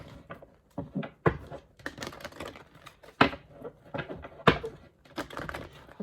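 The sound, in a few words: shuffling tarot cards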